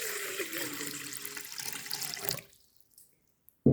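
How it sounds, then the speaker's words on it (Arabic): About 4 liters of warm water running from a kitchen tap into a bowl for pizza dough, a steady rushing splash that stops abruptly partway through, followed by near silence and a short knock at the end. "غادي نوضع 4 لتر ديال الماء دافئ"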